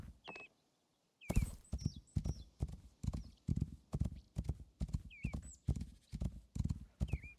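A horse trotting in the Rising World video game, its hooves clip-clopping in a steady, even rhythm after a short pause, with several whinnies and neighs mixed in, close and clear.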